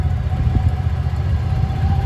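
Engine of a turf debris blower on a golf course revving up, a loud, steady mid-pitched motor rumble that holds close and constant throughout, with no voices.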